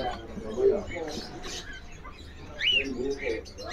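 At a bird seller's stall, an adult male kingfisher that feeds on insects lets out a few sharp, high chirping calls in separate bursts, mixed with someone talking nearby.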